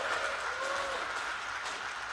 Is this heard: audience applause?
yes